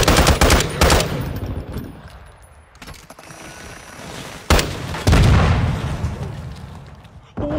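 Battle rifle gunfire in a shooter video game, loud repeated bursts of shots and booming impacts in quick clusters with quieter gaps between.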